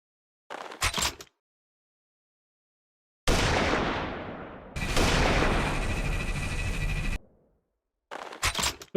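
Heavy turret in an Unreal Engine 4 game fires loud booming blasts, a short burst and then two long roaring discharges with ringing tails, followed by further short shots.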